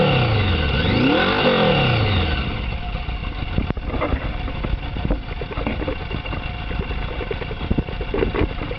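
A 1981 Honda Goldwing cafe motorcycle engine idles at about 950 rpm, a close, steady low rumble that follows a brief rev at the start, with a few knocks and clicks around it.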